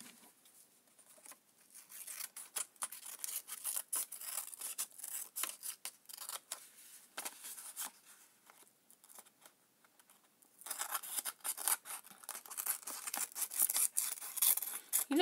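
Scissors snipping around the edge of paper for a mermaid junk journal, a close run of quick, crisp cuts with brief pauses, growing busier toward the end.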